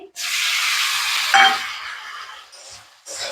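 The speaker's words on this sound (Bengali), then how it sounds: "টমেটো কুচি দিয়ে ভালো করে তেলের সঙ্গে এটাকে ভেজে নেবো পেঁয়াজের সঙ্গে" Onions and chopped tomato fry in oil with a close, bright sizzle as they are stirred, broken by a light utensil clink partway through, before the frying fades and briefly rises again.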